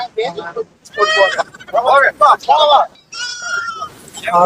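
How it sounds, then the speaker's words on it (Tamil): Two young goat kids bleat loudly and close up, giving a run of separate wavering cries in quick succession with brief pauses between them. "ரெண்டு ஒரே ஆட்டு குட்டி தான்"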